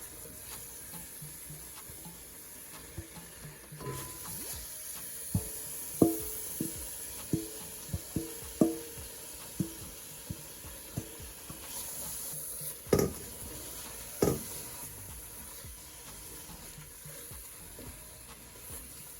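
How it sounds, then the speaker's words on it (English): Coconut flakes sizzle softly in a pan on medium heat for Jamaican grater cake, with a steady gentle frying hiss and repeated light scrapes and knocks of a spoon stirring, close and unaccompanied by talk. "you can go ahead and add your coconut flakes at this point"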